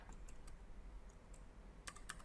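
A computer keyboard clicks briefly as a layer name is typed in AutoCAD 2020, a few soft keystrokes and then a quick, close burst at the end.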